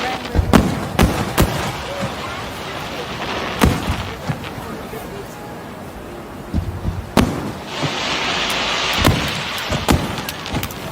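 Fireworks burst at night after a night fishing trip, a series of sharp, irregular bangs and crackles at moderate distance, with people talking and exclaiming between the blasts.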